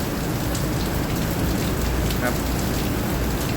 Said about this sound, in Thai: ตอนนี้ฝนตกแล้วครับพี่น้อง